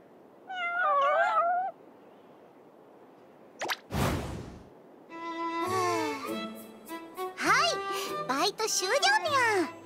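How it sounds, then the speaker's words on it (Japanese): In the game Princess Connect Re:Dive, a cat gives one clear, wavering meow near the start, followed by a whoosh and then animated character voices talking. "玉木探検隊の眼前についに待望の未確認猫生物が現れた"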